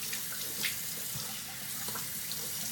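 Cold water runs from a tap into a sink while a face is rinsed, a steady, soft hiss with occasional splashes, close and continuous throughout.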